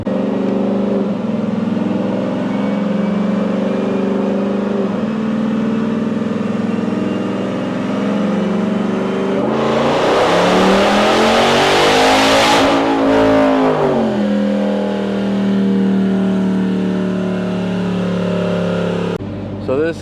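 Jeep Trackhawk on a dyno with 85 injectors, PCM unlock and stock boost, its engine running steadily, then climbing into a loud full-throttle rev that peaks and drops back before settling again.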